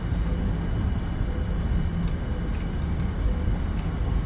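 A War Thunder aircraft produces a constant, broad engine roar with a rushing wind-like texture, steady and moderately loud, with no speech.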